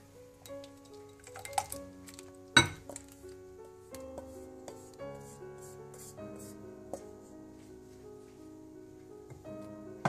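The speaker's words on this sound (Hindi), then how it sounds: "अब इसको मैं ठंडा होने के लिए दूसरे बर्तन में शिफ्ट कर दूंगी।" Date chutney is moved from one cooking pot into another, with clinks and scrapes of metal utensils against cookware, one sharp louder knock partway through, and steady kitchen clatter throughout.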